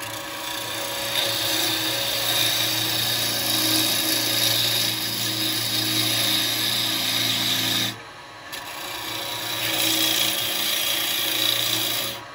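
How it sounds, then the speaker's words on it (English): A wood lathe turns a blank for a cowboy hat while a turning tool cuts it down, giving a steady loud scraping, rushing sound that stops briefly and then resumes. "Now at the moment, I'm just cutting in to get this piece down a bit."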